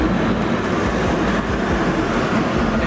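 A Barcelona metro train pulls into a station, a loud, steady rumble of rolling wheels on rails with faint clicks running through the whole stretch and no talking.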